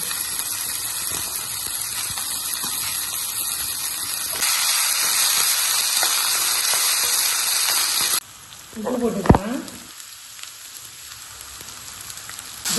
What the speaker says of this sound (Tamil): இப்போ அந்த வெட்டி வச்சிருக்கிற மாங்காய் இஞ்சியை போடுறேன் போட்டுட்டு நல்லா ரெண்டு நிமிஷம் வதக்கணும் எண்ணெயில்